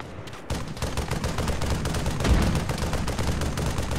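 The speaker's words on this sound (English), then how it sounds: "Who else is firing mortars?" Mortar and other weapons fire in the military shooter Arma 3, a steady dense rumble of rapid, overlapping blasts and impacts that continues without break, with one heavier thump near the end.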